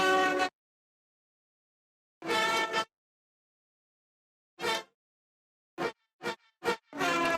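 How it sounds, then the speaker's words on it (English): Layered brass shot sample split into two parts panned left and right, hit as several short stabs with gaps of silence between, the last ones coming in quick succession before a longer hit. "I just started with this brass shot,"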